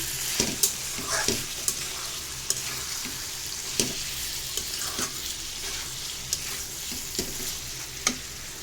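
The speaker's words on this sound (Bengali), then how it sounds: "আমি লতিটা ভালো করে কষাইয়া আগে সিদ্ধ করে নিচ্ছি" Taro stolons being sautéed in a pan: steady frying sizzle with repeated sharp scraping stirs of a spatula at irregular intervals, close and moderately loud, with no talking.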